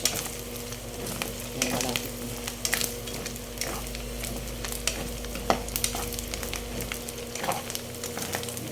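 Shrimp paste and pork frying in oil are stirred in a pan, with steady close sizzling and repeated scraping, squishing strokes throughout.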